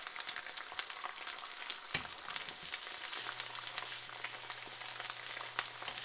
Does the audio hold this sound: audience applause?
no